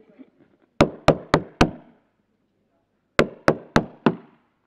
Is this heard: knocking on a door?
yes